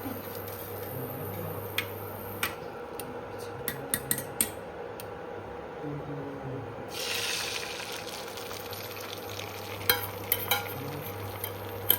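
Coconut oil heats in a hot pan for a bread omelette. Scattered metal clinks and utensil taps come first, then a sharp burst of frying sizzle flares up partway through, with more clatter near the end.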